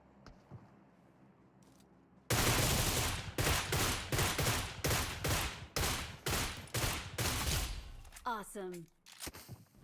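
Gunfire in a battle royale video game, including an M24 sniper rifle: after a quiet start, a string of loud, sharp shots and bursts rings out at a rapid irregular pace, with a brief faint voice near the end.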